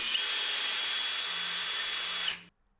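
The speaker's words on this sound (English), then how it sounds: "we can drill and tap the vents so they're easy to install" A power drill whines steadily up close for about two seconds, drilling mounting holes in a metal vent for an Austin Mini, then cuts off abruptly into near silence.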